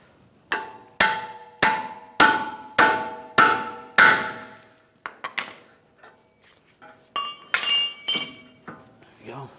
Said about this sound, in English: We're going to use a pickle fork.